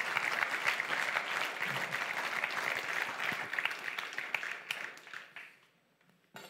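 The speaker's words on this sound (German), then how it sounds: "Geben wir doch dem Christoph einen Applaus." An audience at a church gathering claps steadily and fairly loud, then tapers off to a few last claps before quiet.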